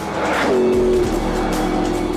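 McLaren P1 supercar at high speed, a loud broadband engine roar filling the whole clip, with a rising tonal whine and tire or wind rush layered through it, close and steady.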